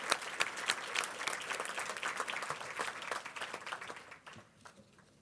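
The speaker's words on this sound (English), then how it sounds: "So I would like for us all to give a round of applause." Audience applause at a law symposium, with crisp individual claps standing out from a crowd's steady clapping that gradually thins and fades toward the end.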